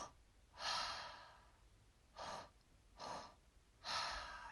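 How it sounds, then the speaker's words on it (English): Slow, deliberate breaths during a breathwork exercise for releasing anger, four long soft airy swells of inhaling and exhaling spaced a second or more apart, close and quiet, with no talking. "Your only job right now is to notice your breath."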